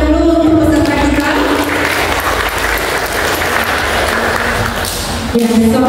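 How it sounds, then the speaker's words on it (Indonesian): Loud, dense applause from a quiz competition audience, steady clapping throughout with a sustained tone sounding over it at the start and end. "Tepuk tangan dulu untuk peserta kita."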